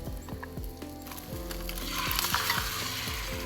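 An egg fries in butter in a pan on a solo canoe trip at Killarney, with a steady sizzle rising partway through. Repeated clicking scrapes from a utensil against the pan run throughout.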